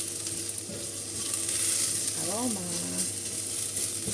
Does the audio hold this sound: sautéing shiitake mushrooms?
yes